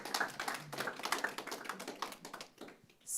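Audience applause at a literary book event, a dense patter of many hands clapping at moderate volume for about three seconds, thinning slightly toward the end.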